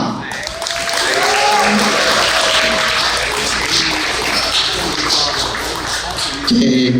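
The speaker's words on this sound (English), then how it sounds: "How about a big round of applause for Aiden Thao" An audience in Milwaukee applauds a sponsored performer, a dense, loud wash of clapping that holds steady for several seconds while a voice talks over it.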